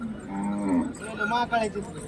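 A bull at a Hirapur livestock market gives a loud, close moo that swells and falls for about a second, then a second rougher lowing call follows.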